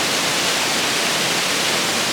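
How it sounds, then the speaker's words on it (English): A waterfall roars in a loud, dense, unbroken rush of broadband noise that holds steady throughout, with no other sounds standing out. "Another day, another waterfall."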